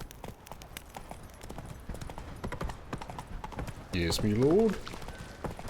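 Roach, the horse in The Witcher 3, clops along with steady hoofbeats under game music and dialogue, a voice speaking over them, then a brief whinny-like tonal burst late on.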